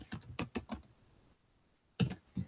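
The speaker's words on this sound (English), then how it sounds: "But let me type something." Computer keyboard typing in bursts of quick clicks, a short run of keystrokes, a pause of near silence, then a few more taps, close and fairly crisp.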